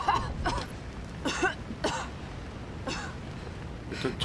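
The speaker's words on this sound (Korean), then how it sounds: "일단 차에서 기침하는 것도 시원해요." A character coughs and clears their throat several times inside a car in the horror game The Evil Within, DLC The Assignment, with irregular bursts spread over a few seconds against a low background rumble.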